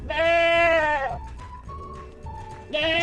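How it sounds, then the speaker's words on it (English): A sheep gives two loud, wavering bleats close by, separated by a quieter stretch with softer tonal murmurs. "sheep"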